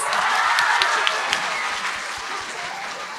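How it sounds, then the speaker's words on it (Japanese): An audience at a stage event before the premiere of the film Karada Sagashi gives actress Maika Yamamoto a dense, steady round of applause, loud and close, with no voices above it. "よか った、声援あって。"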